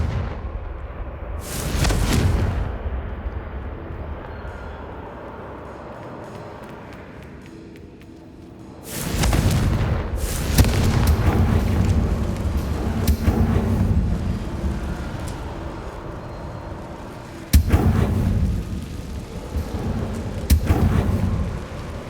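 Confringo fire spell explosions in Hogwarts Legacy on PS5: loud booming blasts recurring in separated bursts, each with a rumbling tail that fades slowly before the next detonation.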